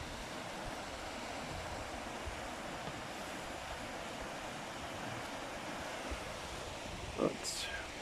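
Water pours steadily over a weir on the River Irwell, a continuous broad rushing wash heard alone at moderate level, with a brief sharp knock near the end.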